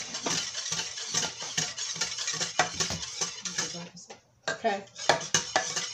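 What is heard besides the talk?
stirring banana pudding mixture in a pot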